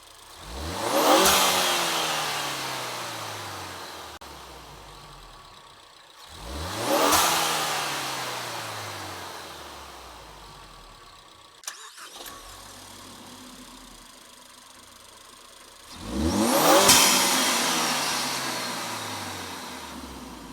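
A car fitted with a Green Filter high performance air intake revs three times, each rise swelling into a loud, raspy intake roar before falling back to a low idle, heard up close.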